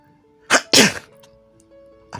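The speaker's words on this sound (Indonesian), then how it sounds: "mendengar seseorang bersin" Two sharp sneezes from one person in quick succession, close and loud, after a short intake of breath, followed by a faint third burst at the end in a quiet indoor space.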